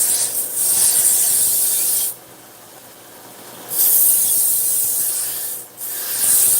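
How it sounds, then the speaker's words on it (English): A 2-inch belt grinder grinds a knife bevel, giving a steady, loud abrasive hiss with a broad rough texture that drops away for about a second and a half in the middle as the blade lifts off, then resumes. "I can run a consistent bevel that cleanly across that machine that quick"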